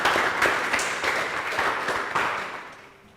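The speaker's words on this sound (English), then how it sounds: "She deserves a good round of applause" A round of applause from an audience at a schools selection guidelines meeting, a dense patter of clapping with a few louder accents that holds steady and then tapers off at the end.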